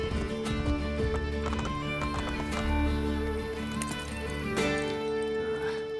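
A horse gallops and neighs in Assassin's Creed Brotherhood, with steady clip-clopping hooves and a loud whinny heard close up over continuous game music and ambience.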